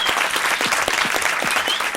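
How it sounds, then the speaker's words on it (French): Audience applause at a live podcast recording, a steady burst of clapping from a seated crowd, close and fairly loud, with no talk over it. "Applaudissez-vous"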